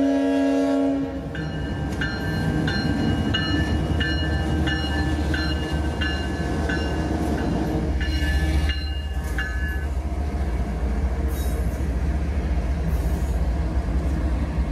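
CSX locomotive #911 leads a loaded juice train, sounding repeated horn blasts over the heavy rumble and clatter of rail cars rolling past close by.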